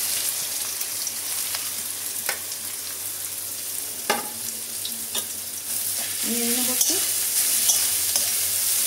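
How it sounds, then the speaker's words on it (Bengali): Panch phoron and green chilies frying in hot oil: a steady crackling sizzle close up, with scattered spatula taps and scrapes and a brief squeaky scrape near the end, no one talking. "তেল গরম হয়ে গেছে, পাঁচফোড়নগুলো ছেড়ে দেবো, কাঁচা লঙ্কাটা দিয়ে দেবো"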